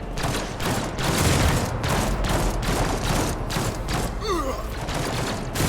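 Ship lasers firing in the video game Warhammer 40k: Rogue Trader, dense repeated blasts in a fast, pulsing volley, with a brief zipping sweep near the end.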